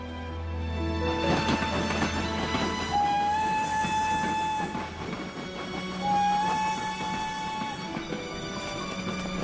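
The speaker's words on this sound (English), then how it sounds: "The next train on platform 1 is the 4:50 from Paddington." A train moves at a railway station platform with a steady rumble and rolling wheel noise, sustained tonal squeals and a faint horn-like tone, loud and close throughout.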